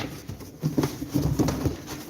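Tumbler pigeons handled at a live bird auction, giving soft low cooing and light wing patter in a few short bursts, close by, with quiet room noise and no talk.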